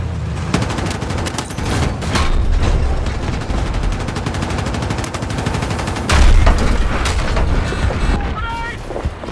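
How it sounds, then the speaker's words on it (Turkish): Battlefield 6 combat: dense, rapid gunfire crackles continuously with heavy booming explosions, a particularly loud blast landing around the two-thirds mark, all close and loud. "Var ya bomba manyağı yaptılar."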